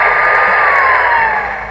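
Electronic fire truck siren from a Paw Patrol toy tablet, a loud, steady buzzing tone with a slowly falling pitch, heard close up and alone, then tapering off.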